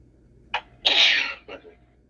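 A single loud, close sneeze with a short intake of breath before it and a smaller exhale after, set against near silence.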